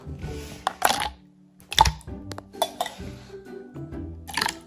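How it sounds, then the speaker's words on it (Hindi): Tapioca pearls spooned into a glass for Kashmiri chai bubble tea, with several close, bright clinks of a spoon against glass and soft clatter in between, fairly loud and irregular. "टैपियोका फर्स्ट डालेंगे आप, बिस्मिल्लाह।"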